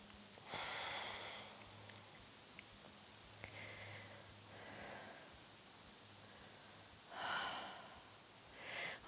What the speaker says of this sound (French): Je respire profondément.